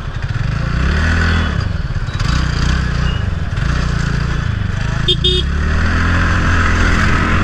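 A scooter rides along a road, its engine droning loud and steady throughout at close range, with a brief higher clatter midway.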